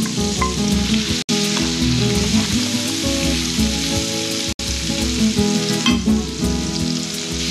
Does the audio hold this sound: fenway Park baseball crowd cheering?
no